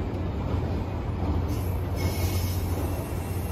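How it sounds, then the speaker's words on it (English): An NJ Transit diesel train pulls out of a station with a steady loud rumble and high wheel squeal, continuous and close, without voices. "So we'll see this train pull out."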